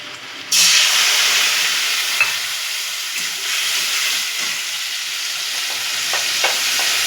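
A paste of ginger, garlic, chili, ground cumin, turmeric and tomato hits hot oil for egg korma and bursts into a loud, steady sizzle that hisses on close by, with occasional faint stirring clicks.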